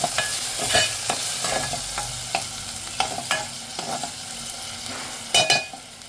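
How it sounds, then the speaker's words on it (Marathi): Coriander sautéed in a hot tempering with dried Bombay duck and potato, a steady sizzle of frying broken by repeated clinks and scrapes of a spoon stirring in the pan, close and fairly loud. "आता थोडी मी कोथिंबीर घालते फोडणीमध्ये"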